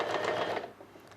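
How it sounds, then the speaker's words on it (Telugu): A sewing machine stitches a blouse corner up to a marked point, a brief close whirring run that tapers off and quiets within about a second. "ఈ మార్కింగ్ దగ్గర వరకు కుట్టు వేసేసుకోవాలి"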